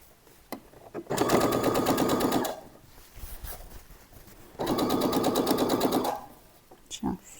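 A sewing machine runs two bursts of rapid, even stitching on trousers, about a second and a half each, backstitching to lock the seam, with quiet pauses and small clicks between.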